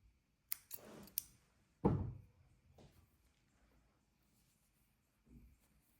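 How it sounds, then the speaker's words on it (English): A few sharp snips of scissors close by, followed by a soft thunk and faint rustling in an otherwise quiet room. "And the scissors."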